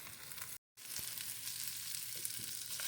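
Vegetables sizzle steadily in a frying pan while a knife scrapes and stirs them, a close, continuous crackle with a brief dropout near the start and no talking.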